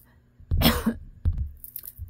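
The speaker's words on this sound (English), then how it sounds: "That was a cough you heard." A person coughs twice in quick succession, close and fairly loud, each a sharp burst with a brief rasping tail, in an otherwise quiet room.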